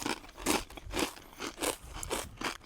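Thick-cut ruffled potato chips with Norwegian hot dog seasoning crunch as they are bitten and chewed, with five or six loud, crisp crunches in a steady rhythm, close up and with no voices.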